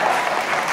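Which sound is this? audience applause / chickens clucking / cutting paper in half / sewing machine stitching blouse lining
audience applause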